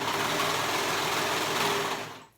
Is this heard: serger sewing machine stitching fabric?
yes